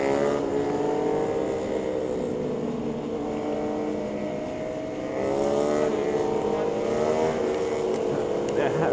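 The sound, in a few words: loud motorcycle engine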